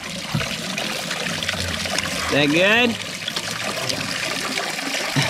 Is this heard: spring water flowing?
yes